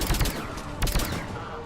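Bursts of machine gun fire in a Mass Effect 3 battle, several short loud volleys at the start and again near the middle, then trailing off into a noisy combat backdrop.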